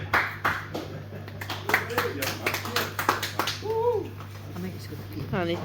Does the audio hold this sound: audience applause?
yes